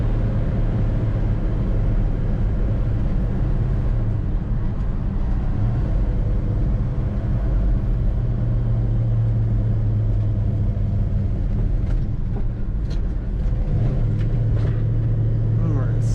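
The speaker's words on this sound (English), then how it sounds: "Really great sound to this car, and lots of power in that engine." A 1968 Chevrolet Chevelle SS with a 396 V8 rumbles steadily from inside the car while driving, a loud, deep engine drone holding a fairly even pitch, with some faint clicks late on.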